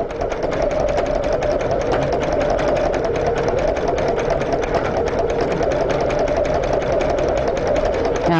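An embroidery sewing machine stitches a heavy embroidery design, its needle beating in a fast, steady mechanical rhythm with a slight clunking quality, loud and close and running without pause.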